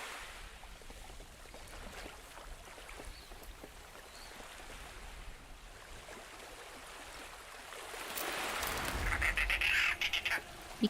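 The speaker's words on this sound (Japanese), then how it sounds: "びっくりした。 鳥の声か。" Bird squawks break out near the end of a quiet scene in the Verne: The Shape of Fantasy game, rising loud and close over a soft watery ambience after a long stretch of low background hiss.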